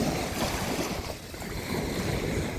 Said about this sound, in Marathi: ह्या लाटा धडकणाऱ्या लाटा ऐकूया